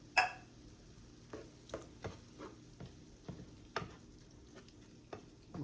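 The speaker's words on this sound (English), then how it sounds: "And we're going to let that simmer." Tomato paste and Rotel tomato sauce simmering in a pan for beef and vegetable lasagna, a quiet bubbling with sparse irregular soft pops and ticks.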